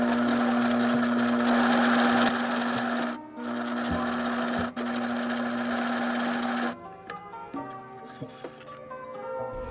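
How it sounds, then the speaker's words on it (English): A sewing machine stitches a seam on a homemade matching sweat set, a steady loud whir broken by a brief pause, then it stops and soft music carries on alone. "So we're gonna go ahead and stitch that."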